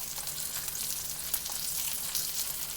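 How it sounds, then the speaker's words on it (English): Rainbow trout frying in butter in a pan gives off a steady, close, dense sizzle with crackling spits throughout, heard alone without talk. "So you guys can hear, he's sizzling pretty good."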